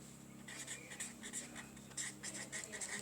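A pen scratches across the pages of a book in steady, soft strokes, close and faint, continuing for a few seconds with no talking.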